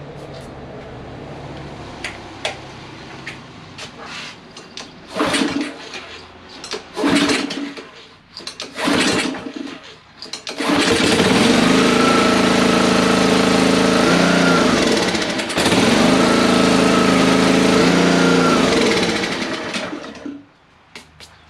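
Honda GCV160 small engine pull-started by its recoil cord, with a few sharp rope pulls and sputters before it catches and runs steadily on choke with a loud, even idle drone that then cuts off.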